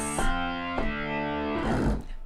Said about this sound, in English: So I'm using the plugin IK Multimedia Hammond B3X.